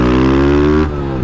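A small commuter motorcycle revs up close and loud, its engine pitch rising briefly before dropping back off toward idle.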